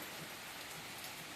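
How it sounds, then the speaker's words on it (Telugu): Steady rain pouring onto potted garden plants and leaves, a dense even hiss of drops close by, unbroken and without voices. "భలే పడుతుందండి వాన"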